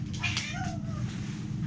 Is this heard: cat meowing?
yes